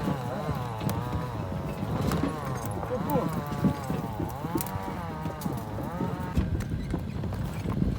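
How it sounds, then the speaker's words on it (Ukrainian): Horse pulling a cart along a country road to fetch firewood in the forest: steady, rhythmic hoof clip-clops with cart rumble throughout, while people talk over it. "ми їдемо на коню по дрова"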